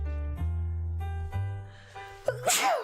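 A sneeze bursts out near the end during a Space Quest: Vohaul Strikes Back game session, a sharp close blast of noise after a stretch of steady electronic game music tones.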